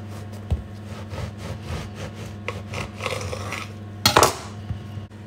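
A knife saws through a part-baked Aldi baguette lengthwise with rough, crusty rasping strokes, a few knocks against the board, and a louder crunchy scrape near the end, close up with a low background hum.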